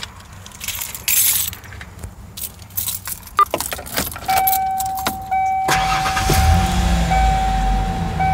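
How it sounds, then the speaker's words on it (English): A 1994 Ford Ranger with the four-liter engine is started: keys jangle and rattle in the ignition, then the engine catches and settles into a steady low idle with a thin whine over it, nearby and without speech. "I'll go ahead and just start up just for kicks"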